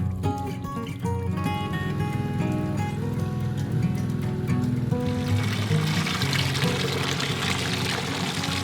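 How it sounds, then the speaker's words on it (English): Water pours steadily into a container, the gurgle growing into a louder, splashier rush halfway through, with a low hum underneath. "We just fill her up with water, clean it up."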